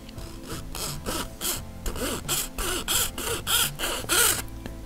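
A Shokunin Katagi razor saw cuts through a plastic model part in close, rhythmic back-and-forth rasping strokes, roughly a dozen quick scraping passes with no talking.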